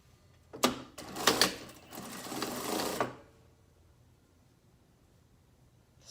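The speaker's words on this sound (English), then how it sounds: "I'll do a little bit of extra back tacking." Sewing machine stitching back and forth over elastic on a pleated fabric face mask: a close burst of rapid motor-driven stitching in short runs over about two and a half seconds, then quiet.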